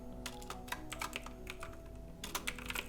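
Rapid keystrokes on a computer keyboard while HTML tags are being written, irregular clusters of close, crisp clicks with short pauses, no talking over them.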